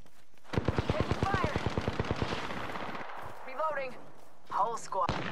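Rapid automatic gunfire from a first-person shooter video game rattles in a steady burst of evenly spaced shots, followed by electronic weapon and game effects, with voice chat underneath.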